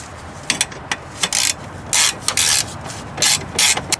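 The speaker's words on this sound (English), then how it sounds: "The bolt that holds this bracket into place has to go back in." Ratcheting a bracket bolt back in on a rusty 2002 Mitsubishi Lancer during fuel filler neck work: bursts of quick metallic clicks from a ratchet wrench, fairly close, with short pauses between strokes and no talk.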